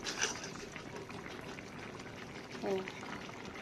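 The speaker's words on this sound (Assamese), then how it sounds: "এতিয়া মই মাছখিনি দি দিম তাতে।" Fish dropped into a pot of water on the stove, bubbling liquid churning steadily with a brief splash-like surge near the end, and a faint voice now and then underneath.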